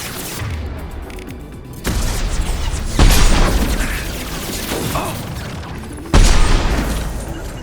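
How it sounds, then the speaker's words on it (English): A high-impact shot fires in Mass Effect 2 as heavy booming blasts with mechanical clanks, three strong hits spaced a few seconds apart amid dense combat noise. "Firing a high-impact shot!"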